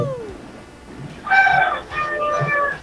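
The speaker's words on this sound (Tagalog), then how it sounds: "Ano yung mga manok na nagtitilaok sa'yo?" Two bursts of rooster crowing, moderately loud, with faint background noise and low murmurs between calls.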